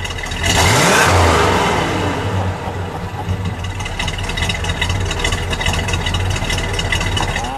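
A 1968 Plymouth GTX convertible's 440 V8 revs hard and loud up close, the roar climbing then falling back to a rough, lumpy idle that rumbles on steadily.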